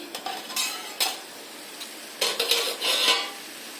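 A metal lid is lifted off a pot of laal shaak, red amaranth greens, cooking over a low flame. A few short clanks and scrapes stand out over a soft, steady sizzle.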